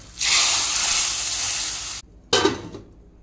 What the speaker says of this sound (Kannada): ಇವಾಗ ಪದಾರ್ಥಕ್ಕೆ ಒಗ್ಗರಣೆಯನ್ನು ಹಾಕ್ತೇನೆ